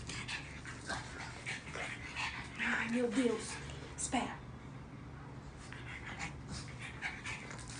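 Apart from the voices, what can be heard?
dogs panting and whimpering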